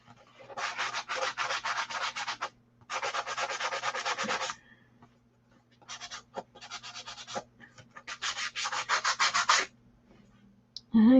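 Mixed media journal pieces are sanded by hand in several bursts of quick, rhythmic scratchy rubbing, separated by short pauses, close and clear with no speech.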